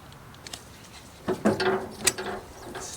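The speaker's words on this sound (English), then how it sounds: "Take your snips, straighten out this cotter pin." Snips work a cotter pin straight on a trailer axle: a few faint clicks, then a short cluster of close metallic snaps and scrapes with a sharp tick near the end.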